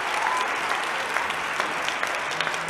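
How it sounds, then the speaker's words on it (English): Steady applause from a small studio audience in a guest house setting, continuous close clapping at moderate loudness with no other sounds standing out. "where's the applause?"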